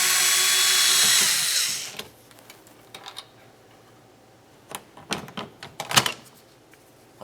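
Power tool on a 7mm-headed bolt of a 2000-2006 Chevy Tahoe liftgate, at the rear wiper motor: a loud whirring run of about two seconds, then quiet clicks and rattles of handling.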